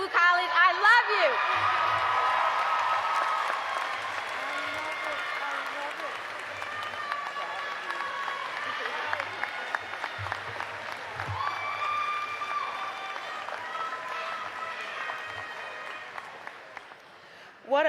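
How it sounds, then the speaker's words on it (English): Sustained applause from a large crowd at a Tougaloo College commencement ceremony, steady clapping with a few whoops rising through it, close and loud throughout. "Tia certainly deserves another round of applause."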